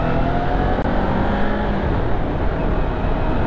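A Kawasaki Ninja 400 motorcycle engine runs loud and close as the throttle opens, a dense, steady roar that holds through the whole stretch with no talk.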